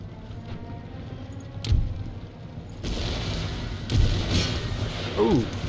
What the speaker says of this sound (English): Ooh, good hits on everything with that cannon.